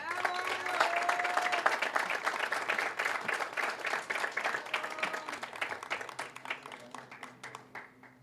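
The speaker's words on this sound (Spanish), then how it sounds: "Muchas felicidades, un aplauso" Applause fills an award ceremony for human rights journalism, a steady crowd clapping close and loud throughout that gradually thins and fades toward the end.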